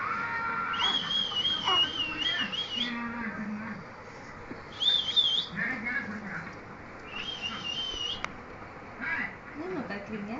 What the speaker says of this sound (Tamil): விசில் அடிங்க.